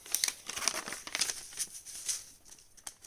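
Origami paper, folded for a flapping bird, is opened back up with a quick series of crisp crinkles and soft rustles, close and quiet, with no talking.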